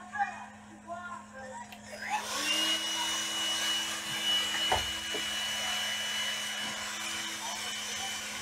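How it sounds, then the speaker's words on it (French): A vacuum cleaner switches on after a couple of seconds and runs steadily with a loud broadband whoosh and a constant motor hum, with a few knocks. "on va allumer l'aspirateur."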